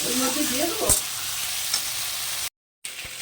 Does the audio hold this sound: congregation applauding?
no